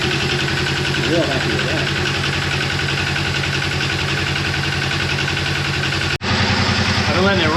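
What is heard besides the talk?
Razor 900 engine running at idle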